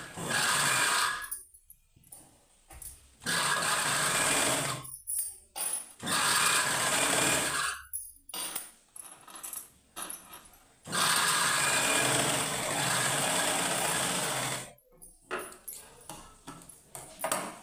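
Sewing machine stitching a seam on cloth in several long runs of steady rapid whirring, separated by brief pauses with clicks and fabric handling, close by.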